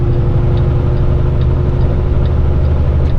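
A Kenworth heavy truck's 15-liter engine runs with a loud, steady low drone and rumble, heard close and without a break. No one talks over it.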